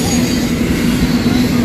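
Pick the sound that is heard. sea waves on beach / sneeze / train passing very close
train passing very close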